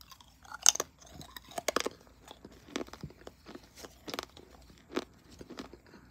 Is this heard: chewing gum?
yes